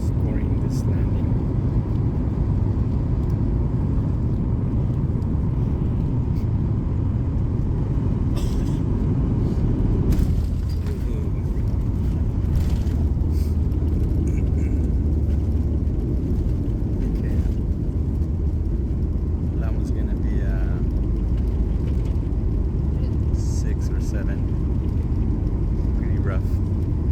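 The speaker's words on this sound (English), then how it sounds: "we're approaching the runway in Charles de Gaulle, and we're going to be scoring this landing" An airliner comes in for landing on a runway at Charles de Gaulle in rain, heard from inside as a steady loud cabin rumble with a sharp jolt and shift in roar partway through.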